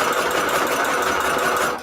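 A sewing machine runs a continuous zigzag stitch along a paper signature edge, its rapid mechanical whirr loud, close and even for under two seconds before trailing off.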